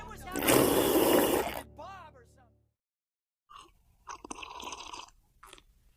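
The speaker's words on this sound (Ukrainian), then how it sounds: "Раптом хтось гучно сьорбнув чай." Someone loudly slurps tea: one long, noisy, close slurp at the start, followed by a pause and then a voice speaking.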